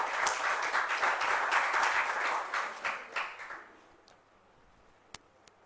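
An audience claps for a preliminary-stage contest, a dense burst of applause that holds steady for a few seconds and then thins into a few scattered claps before dying away.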